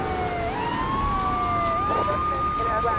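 Police car siren in the video game Grand Theft Auto 3, a wailing tone that sweeps up and holds steady, moderately loud over continuous game background noise.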